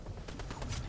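Rapid bursts of gunfire from a Fortnite Chapter 3 match, several quick shots spaced across a second, fairly loud and close with no talk over them.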